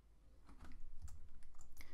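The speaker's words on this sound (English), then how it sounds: "And let's start typing like Iron Man in here." Rapid typing on a computer keyboard, a dense run of close, crisp keystrokes that starts softly and then continues steadily.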